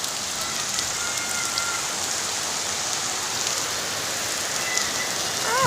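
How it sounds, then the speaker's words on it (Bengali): Heavy rain falling steadily, a dense continuous hiss of drops striking surfaces, close and even throughout. "এই যে দেখেন কত জুটতে নামছে বৃষ্টি।"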